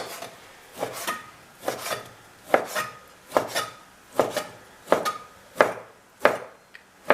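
A knife chops repeatedly through a rested medium steak on a cutting board, about a dozen crisp, evenly spaced cuts close by with no talking.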